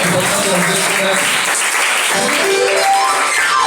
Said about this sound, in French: Est-ce que vous acclamez pour le pasteur?